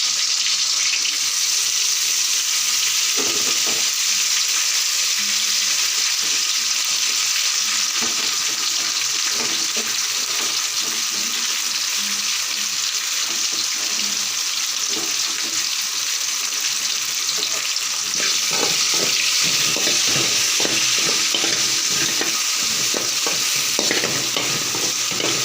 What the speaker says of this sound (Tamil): புதினா நல்லா வணக்கி எடுத்துக்கலாம்.